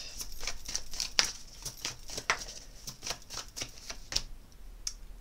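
A deck of Gilded Tarot Royal tarot cards being shuffled close up, a quick run of crisp papery riffles and flicks in irregular bursts, with a few sharper snaps among them and no talking.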